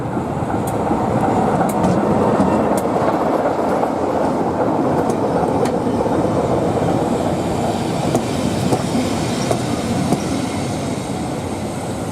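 Heritage diesel locomotive D5185 pulls away with a down train toward Loughborough, a loud, steady engine rumble and rolling wheel noise with faint squeals and clicks, no voices.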